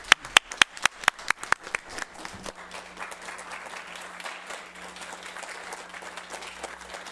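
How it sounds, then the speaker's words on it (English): A round of applause at a board meeting: a few loud, sharp individual claps up front, then a softer, steady patter of clapping from the room for the rest. "another big round of applause for these great people"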